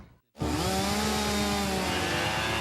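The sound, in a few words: fuel-powered trimmer engine revving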